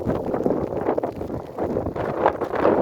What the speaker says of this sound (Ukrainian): сильний вітер дуже і ще й почався дощ